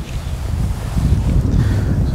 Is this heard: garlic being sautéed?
no